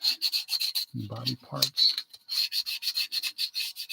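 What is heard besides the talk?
sanding plastic model car body parts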